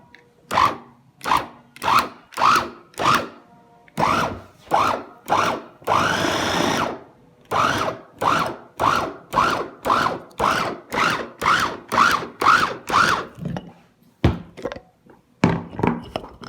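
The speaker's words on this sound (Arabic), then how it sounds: "غنبداو غير دقه دقه باش ما يجيناش كنطحونوا فيه الماء" Electric food chopper with a two-blade attachment grinding food with a little water, running in repeated short pulses of whirring, with one longer continuous run in the middle, loud and close.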